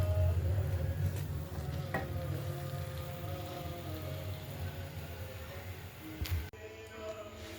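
Ghee sizzles steadily in a pan of carrot halwa as it is stirred, a continuous close frying hiss with faint scraping and a brief clatter near the end.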